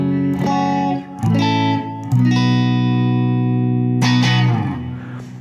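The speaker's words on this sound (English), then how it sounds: "you can get some split coil sounds like something like this" Electric guitar in split coil mode through a Benson Vincent amp, clean and bright, strumming a handful of chords that each ring and decay, one held for nearly two seconds, played alone without voices.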